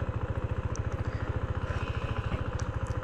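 A KTM Duke 390 BS6 motorcycle engine chugs at low revs in first gear, a steady rapid thumping pulse, close and fairly quiet, with no talking.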